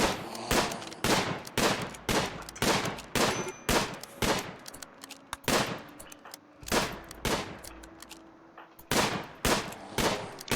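Bursts of gunfire ring out in RimWorld as colonists shoot at a cougar, loud sharp volleys repeating in quick rhythmic clusters with short gaps between them, no talking over them.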